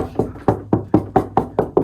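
Knuckles rap a hollow interior door eight times in quick, even succession, each knock a close, resonant, slightly boomy thud.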